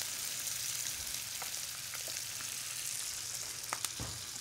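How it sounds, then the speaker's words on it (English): A pan of frying ingredients with white wine added, giving a steady sizzle and soft hiss with a few sharp pops and spatters, heard close. "I have a little bit of white wine I'm going to add to this"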